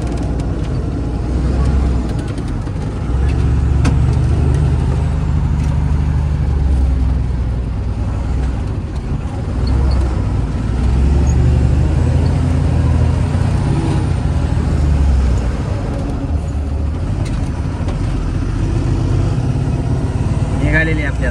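A car driving on a road, with a steady low engine rumble and road noise throughout, and speech heard faintly over it.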